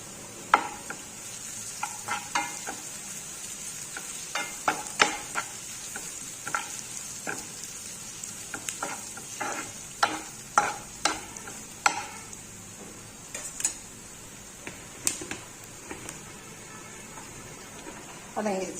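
Curry leaves sauté in an oiled pan for mushroom semiya kichadi, giving a steady hiss with frequent sharp crackles and pops and the scrape of stirring, close and fairly loud throughout.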